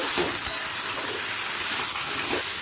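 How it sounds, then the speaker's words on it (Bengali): Vegetables fry on high flame in a pan, a steady, loud, dense sizzle and crackle that runs throughout with a few brief stirring scrapes, no voices. "দু মিনিট হাই ফ্লেমে ভাজা হয়ে গেছে"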